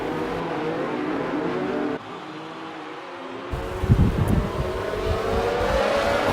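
Race cars in a racing game accelerating away at a safety car restart: a steady engine drone that dips briefly, then surges into louder, rising revs as the pack pulls away together.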